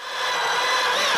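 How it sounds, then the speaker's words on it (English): A power drill bores into a wooden log, a loud steady grinding whine that swells slightly as the bit bites and then holds constant. "Let the drilling begin!"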